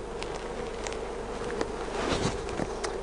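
Honeybees buzz around an opened top bar hive in a steady, close, humming drone, with individual bees briefly swelling louder as they pass near.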